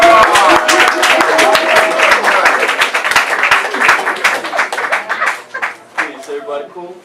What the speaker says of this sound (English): stomp, clap, do whatever you can to show love